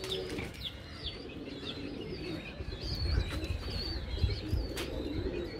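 A pigeon coos softly amid scattered bird chirps, over a low, rumbling outdoor background that swells slightly partway through.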